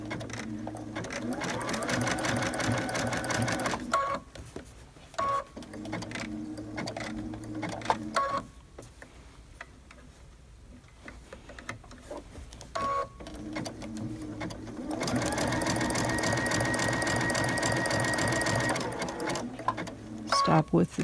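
A sewing machine stitches an appliqué on cuddle fabric in long runs of fast, steady clatter, with a quieter stretch in the middle where a voice talks between stitches.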